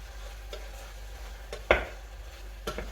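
Mint chutney ingredients dry-roasting with salt in a pan, a few soft scrapes and one sharper knock of a stirring spoon over a low, quiet background hum.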